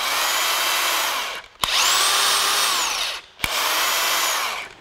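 DeWalt DCF900 cordless impact wrench running free at high speed, two loud sustained whirring bursts with a rising pitch on spin-up and a sharp click between them, close and alone with no talk.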